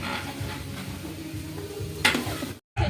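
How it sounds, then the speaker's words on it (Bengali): Spices frying for khichdi sizzle steadily in a pot while a spoon stirs in repeated scraping strokes, ending with a sharp metallic clink and a brief drop to silence. "মশলাপাতি ভাজা হচ্ছে, তো খিচুড়ি হোক"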